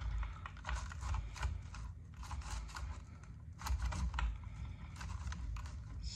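Mechanical clattering and scraping of parts being removed from a chainsaw as the bar and chain come off, a dense run of close clicks and rattles with a low rumble underneath.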